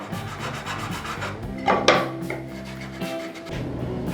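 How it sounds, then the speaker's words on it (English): A wooden tenon is hand-sanded for a mortise and tenon repair, giving close, irregular rubbing and rasping strokes on wood, with a couple of sharper scrapes in the middle. "You don't need to watch me sand."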